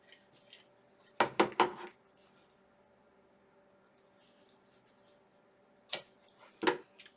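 Scissors cutting material for a Barbie trunk lid make a few quick crisp snips in two short bursts, close and fairly soft, separated by quiet stretches.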